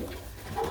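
A racing pigeon coos close by, a brief soft burble that swells toward the end, with no voices.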